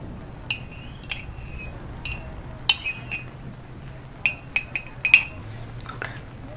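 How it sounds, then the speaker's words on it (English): A spoon stirs cream into hot coffee in a cup, giving faint, scattered clinks against the side at an irregular pace, close and quiet over a low background hum. "I've added some cream. I'll stir it up for you"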